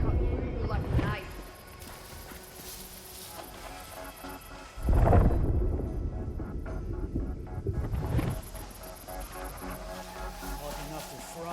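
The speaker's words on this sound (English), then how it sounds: "That storm's not gonna be pretty." Thunder rolls through a storm in the video game Unknown 9: Awakening, two deep rumbling swells rising over steady wind and background score, with a voice speaking at times.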